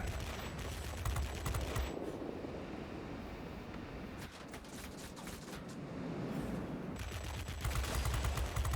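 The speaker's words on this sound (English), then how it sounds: "Very high rate of fire on these guns" Rapid bursts of F-84F fighter machine-gun fire in the World of Warplanes video game, a fast rattling stream in two long volleys at the start and end, with roaring engine and wind noise between, no talk.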